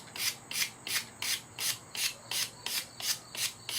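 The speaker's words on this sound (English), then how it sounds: "Quickly with your sandpaper or your rock or your file, whatever it is you choose to abrade with." A point being abraded with sandpaper or a file while shaping a mouth drill, heard as about ten steady, evenly spaced rasping strokes, close and alone, with no talking.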